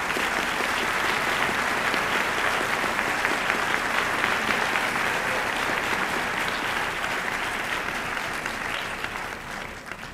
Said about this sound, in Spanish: Quiero pedir un aplauso para Luis Valdés